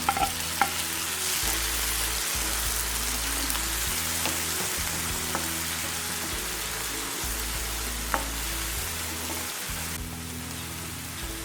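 Chopped tomato frying in a pan while making palak paneer: a steady, dense sizzle with a low burner hum and a few soft stirring clicks, with no voices.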